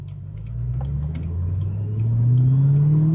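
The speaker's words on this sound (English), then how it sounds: "We've got the nice chunky supercharger back there behind us, making all kinds of beautiful noises." A barn-find Ford GT's supercharged engine drones while driving at around 50, a steady low rumble with a rising whine that climbs and grows louder as it accelerates.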